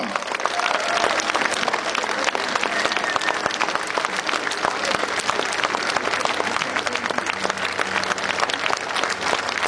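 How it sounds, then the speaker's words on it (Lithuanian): A large audience at the 2012 Žagarė cherry festival gives dense, continuous applause for maestro Vaclovas Daunoras, loud and unbroken throughout, with faint crowd murmur mixed in. "Gausiais plojimais palydėkite maestro"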